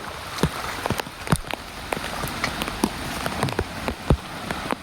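Steady rain patters on surfaces with scattered sharp drip hits during a bicycle ride in the rain, past houses and a temple, with flowing rainwater and a broadband wash throughout.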